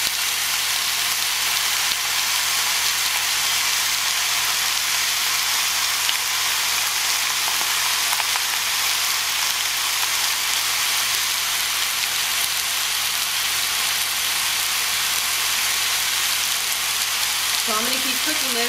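Steady, loud sizzling of skirt steak frying in a hot pan, a continuous crackling hiss that fills the whole stretch.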